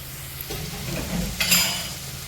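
Onion and grated coconut sizzling in a pan as a spoon stirs them, a brief close scrape and rustle over steady frying hiss, with a brighter burst of sizzle midway.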